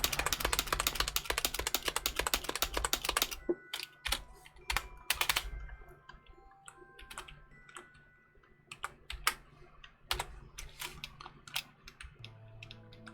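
Someone types on a computer keyboard while playing Dwarf Fortress. A fast, dense burst of close keystrokes gives way to scattered single clicks and short runs of taps.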